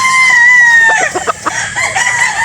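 A Boston sweater gamefowl rooster crows loudly and close by, a long drawn-out call that breaks into a rough, choppy ending, with a second shorter crow following it.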